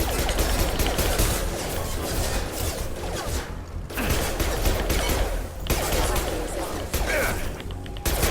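Dense, continuous gunfire roars through a firefight in the video game Mass Effect, with rapid overlapping shots and crashes and only brief lulls, while a voice speaks over the din.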